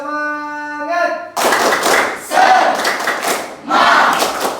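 A school class performs a rhythmic spirit clap chant, loud bursts of group clapping and shouting in quick patterned rounds, following a sustained tonal note at the start.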